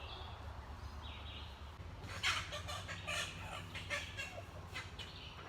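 Chickens in a coop squawk and cackle in agitated bursts as a rooster attacks hens, loud flurried clucking and gobbling calls erupting midway over a low background hum.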